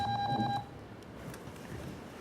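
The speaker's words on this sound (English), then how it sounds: "who hasn't turned off their phone?" A mobile phone rings out in the audience at a convention skits panel, a short run of rapid electronic ring pulses in a room that then fade into murmuring background noise.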